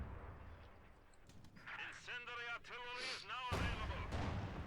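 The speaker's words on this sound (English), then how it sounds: "the Panzer IV is just shooting across the hedge" Panzer IV tank cannon fire in the Company of Heroes 2 strategy game, with several booming shots amid battlefield noise, a heavy blast near the end, and a voice talking over the combat.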